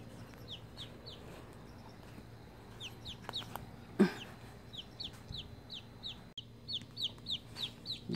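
A pet chicken clucks repeatedly in short, evenly spaced calls, fairly faint, with a single sharp knock partway through and quiet household background.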